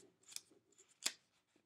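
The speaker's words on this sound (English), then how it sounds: "If I can grab my scissors." Scissors snip through quilt fabric, two crisp, close cuts about a second apart, with quieter handling noise between them in a quiet room.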